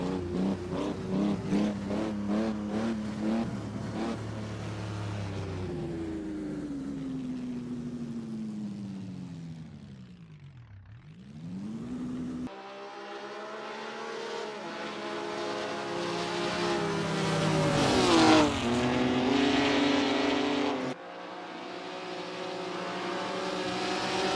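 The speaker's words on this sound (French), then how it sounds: "Fangio et Farina sont toujours roue dans roue quand à la fin du 14e tour, l'Italien s'engouffre dans la voie des stands." 1951 Grand Prix race cars at Spa roar past in sequence, engine notes rising and falling with sharp pitch sweeps as each car approaches and recedes, loud and continuous.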